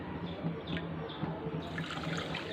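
Water is poured into sugar in a pot for gulab jamun syrup, a steady, close splashing trickle for a few seconds with no talking.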